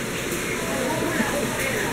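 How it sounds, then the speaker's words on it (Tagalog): Heavy rain pours down steadily in a continuous broadband hiss, close and loud, with a voice talking over it. "Ang lakas ng ulan."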